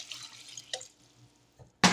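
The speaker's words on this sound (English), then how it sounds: "I'm just adding water." Water is poured into a pan of vegetable scraps to make broth, heard as brief splashes and trickles in a quiet kitchen, ending in a sudden louder gush.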